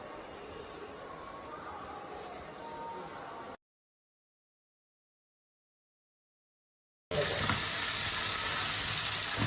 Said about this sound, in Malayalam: അപ്പോൾ ചിക്കൻ ഫ്രൈ ആയിക്കൊണ്ടിരിക്കുകയാണ്.